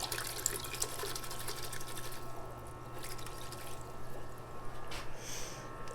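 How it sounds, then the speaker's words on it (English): Tap water runs steadily over the roots of a Pelargonium plant set in a peat-like mix, a continuous close splashing rush with no pauses. "Let's rinse the roots."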